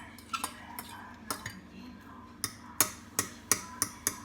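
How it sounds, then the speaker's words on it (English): Fork stirring eggs in a microwave dish, a series of irregular metallic clinks and taps against the bowl that grow busier toward the end, close and fairly quiet, with no talking. "All right, stir it with the fork."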